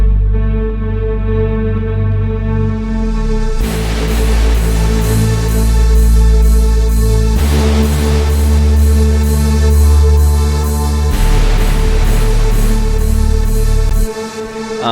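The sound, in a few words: remix hook with pitch-bent sub bass, Serum synth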